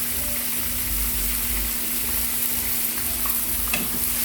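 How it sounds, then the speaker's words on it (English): A steak sears in a hot pan with a constant loud, hissing sizzle, broad and even throughout, with a low rumble underneath and a faint clink near the end. "just sear the side, sear the other side."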